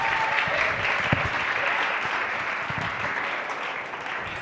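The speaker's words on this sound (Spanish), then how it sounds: "Les pido un fuerte aplauso para el pastor Terry Miller." Church congregation applauding for pastor Terry Miller, sustained crowd clapping filling the whole stretch at a steady level, with a couple of sharper individual claps standing out.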